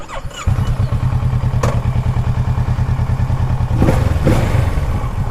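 A 2017 Kawasaki Versys 650 motorcycle engine runs close by with a loud, steady, throbbing parallel-twin idle, then rises briefly in a couple of blips of throttle before settling back.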